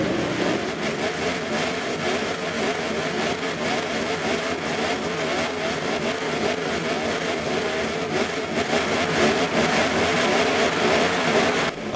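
MotoGP bikes race at Donington Park in England in a racing video game, a continuous, dense engine whine and roar that rises and falls as the bikes accelerate, steady and loud without speech.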